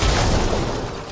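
A grenade blast in the Mass Effect Andromeda action game, one loud, close, deep boom with a brief rumbling decay that fills the whole short moment.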